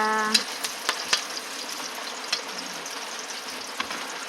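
Chopped jackfruit for adobong langka sautés in a pan, a soft steady sizzle with scattered clicks and scrapes of stirring, close and fairly quiet, no talking.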